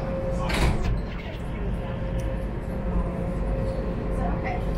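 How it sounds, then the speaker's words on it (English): Sliding doors of a Las Vegas monorail car close with a brief thud near the start, over steady train rumble and a constant electrical hum, with an automated voice announcing throughout. "The doors are closing."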